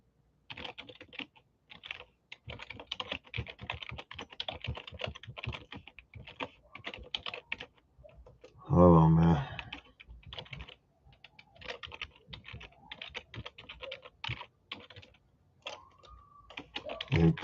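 Steady, uneven clatter of keys on a computer keyboard, typed slowly by one person at close range, with a brief louder bump partway through and no talking.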